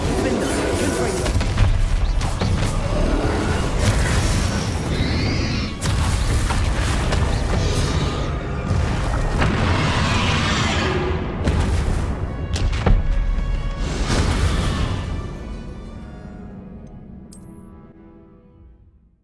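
Bombarda and Confringo spell blasts from Hogwarts Legacy land in a string of loud, booming explosions and thuds over ongoing battle noise, with a voice speaking intermittently before the din fades away.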